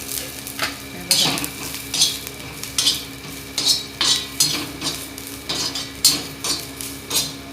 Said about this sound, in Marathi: हे बघा, तेल टाकून घ्यायचं, मग मस्त भाजले जातात ते